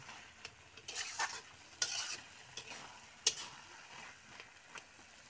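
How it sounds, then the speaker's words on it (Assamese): Soft frying sizzle underlies a handful of scraping, clacking stirs of a spoon in a pan of frying taro and soybean, spaced irregularly and fairly quiet. "এতিয়া মই ধুনীয়াকৈ অলপ ঢুকি দিছোঁ"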